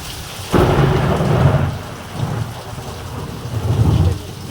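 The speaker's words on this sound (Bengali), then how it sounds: "মুসলধারে বৃষ্টি" Sudden heavy downpour bursts in and hammers steadily on village surroundings, and low rolls of thunder swell and fade beneath the rain. No voices are heard.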